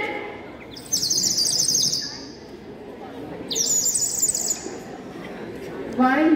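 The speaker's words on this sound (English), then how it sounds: "the rhythmic sound has been changed to the chirping sound of bird" A water-filled bird whistle toy in a science demonstration gives two long bursts of warbling, trilling chirps with a shorter burst at the end, heard over a steady background rumble.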